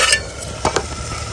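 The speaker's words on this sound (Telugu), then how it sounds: "టమాటా వేస్తున్నా." Chopped tomatoes hitting a hot pan of leafy greens curry with tamarind leaves, a steady hissing sizzle broken by two short clattering stirs of a spoon against the metal pan.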